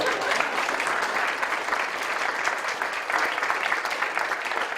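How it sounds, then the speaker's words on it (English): Steady applause from a crowd, a dense even clatter of many hands clapping throughout without pause. "give yourself a nice round of applause"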